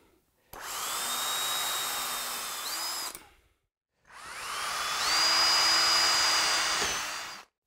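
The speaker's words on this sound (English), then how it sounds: "But you just want to drill through" A power drill whines through two sustained bursts of a few seconds each, drilling through holes in a router attachment, pitch shifting slightly as it bites, with a brief pause between.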